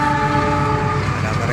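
A freight train roars past close by with a loud, sustained horn blaring over the rumble of the cars.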